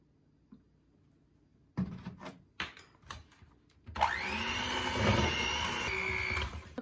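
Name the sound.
mixing cookie dough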